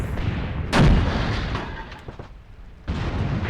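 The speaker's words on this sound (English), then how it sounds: "Oh my god, he just threw so many damn grenades." Stick grenades blast one after another in a desert battle from a World War II video game, loud booming detonations that bunch together and then trail into rumbling gunfire.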